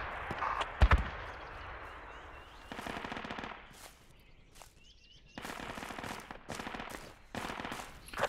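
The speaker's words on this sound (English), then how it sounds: "What was shooting at us now?" Bursts of rapid gunfire aimed at players in an outdoor field game, several sharp rattling volleys at moderate distance, alternating with quieter pauses.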